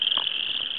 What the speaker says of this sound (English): there's a bunch of frogs in this partly flooded field over here